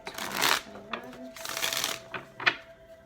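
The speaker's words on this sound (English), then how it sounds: "One more shuffle, and then we'll be good to go." Tarot cards being shuffled in a few quick riffling bursts, close and crisp, separated by short pauses and light taps.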